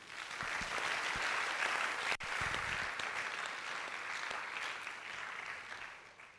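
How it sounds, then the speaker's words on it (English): A lecture audience at a first public lecture applauds Professor Adanu, a soft, distant wash of clapping in a large hall that holds steady for several seconds before fading. "let us applaud him"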